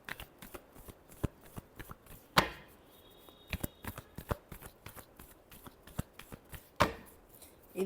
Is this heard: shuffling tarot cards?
yes